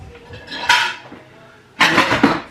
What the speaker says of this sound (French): Faut que je vide le lave-vaisselle.